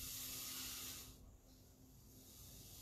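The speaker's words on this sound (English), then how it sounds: "You can hear it sizzling." A brief loud hiss of hot steel being quenched, dropping off suddenly, then a quieter lingering hiss, close up.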